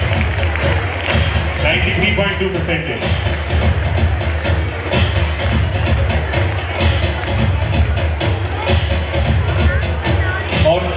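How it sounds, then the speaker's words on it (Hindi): An audience at an award ceremony honoring students claps steadily amid crowd chatter and noise, while an announcer speaks over a PA system. "तालियां रुकनी नहीं चाहिए"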